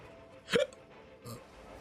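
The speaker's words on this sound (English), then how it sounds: "I got some weird hiccups kind of going on" Two sudden hiccups from a man, the first sharp and clear, the second softer about three-quarters of a second later, close with quiet background.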